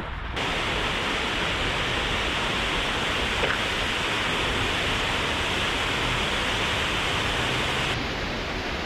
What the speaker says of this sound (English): One of a couple of waterfalls in San Francisco's Golden Gate Park.